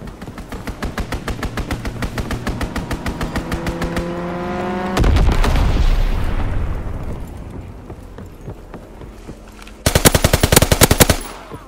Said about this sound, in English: Enemy counter recon observed. Ground our aircraft. Strafing run inbound.